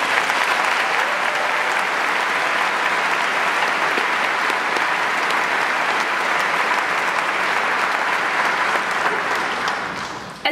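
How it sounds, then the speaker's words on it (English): Loud, sustained applause from a large audience at a high school graduation ceremony, honoring teachers, counselors, administrators and staff, a dense unbroken roar of clapping that fades at the very end. "let's give a round of applause for our teachers, counselors, administrators,"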